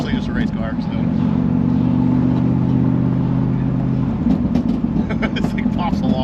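A 6-speed LT1-powered third-generation Camaro race car engine idles and revs at close range with a steady low rumble, then crackles and pops in sharp bursts on the overrun while someone talks over it.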